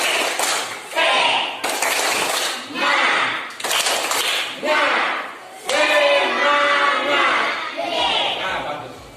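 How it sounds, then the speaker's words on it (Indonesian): A school class performs the rhythmic 'tepuk semangat' clapping chant, with sharp bursts of group claps in a repeating pattern mixed with children's shouted chanting voices, close and loud. "Namanya tepuk semangat"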